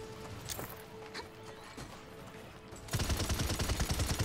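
Gunfire in the video game Paladins: a few sparse clicks and shots, then a sudden loud, dense burst of rapid repeated shots that continues to the end.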